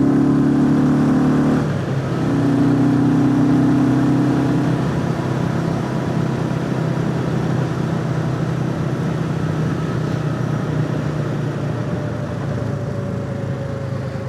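A Royal Enfield motorcycle engine rumbles steadily while riding, loud and close, with a brief rise and dip in pitch early on, then a constant throbbing drone mixed with wind and road noise.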